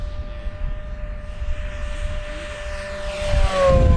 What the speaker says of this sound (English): It's an electric plane, but it's got a little bit of a growl to it.